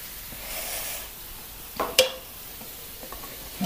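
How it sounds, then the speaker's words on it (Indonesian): Beef sizzles in a frying pan for oseng mercon, with a steady hiss and a few sharp pops and clinks near the end. "Wow, meletup ni."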